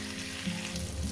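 Eggplant and green chillies fry in a pan with a steady, close sizzle and soft crackle, continuous and alone.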